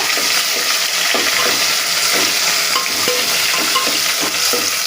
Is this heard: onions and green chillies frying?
yes